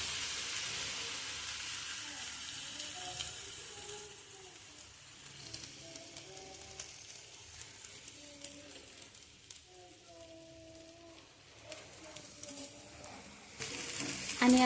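A spinach paratha fries in oil on a flat iron tawa, a soft low sizzle running under quiet background voices, with louder bursts toward the end.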